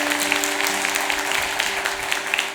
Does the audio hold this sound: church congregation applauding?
yes